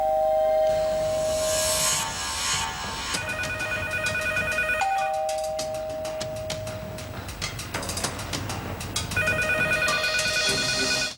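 Telephone ringing in a 2010 Indian film scene, a loud electronic ringtone with repeating melodic tones and bursts that fills the whole stretch before cutting off.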